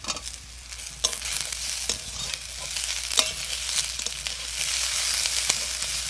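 Bitter gourd and green chili fry in a pan, a soft continuous sizzle broken by repeated scraping stirs of a utensil at irregular intervals, close and fairly quiet, with no talking.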